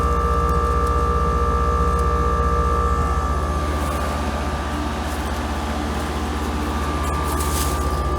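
A new 2022 Heil package heat pump unit runs with a loud, steady mechanical hum and motor whir, close up, the tone shifting slightly partway through with some faint rattles.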